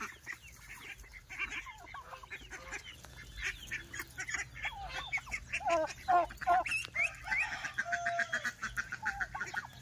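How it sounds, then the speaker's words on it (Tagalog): Ducks and turkeys on a small farm make a busy mix of honks, quacks and gobbling calls at close to middle distance. The calls overlap and rise in the later half. "itik, pato."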